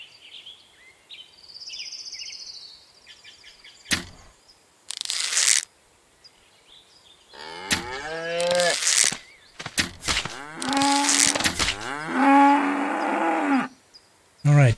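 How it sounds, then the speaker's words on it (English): A cow in the survival game Hold Your Own lets out several drawn-out, wavering moos between bursts of other game sounds, with sharp clicks and thumps in the pauses. "Let's see if we can kill and skin that cow."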